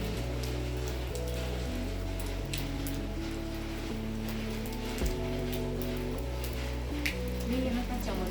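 Steady rain in Khajjiar, near Dalhousie, pattering on surfaces with scattered louder drips, continuous and close, beneath a soft melodic music bed.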